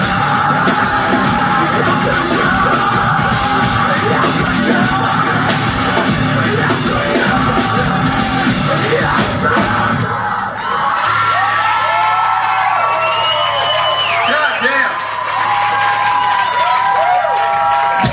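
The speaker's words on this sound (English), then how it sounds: "What a great fucking crowd tonight" A concert crowd cheers, yells and whoops loudly and continuously at a live rock show, with the roar thinning after about ten seconds into scattered shouts and whistles.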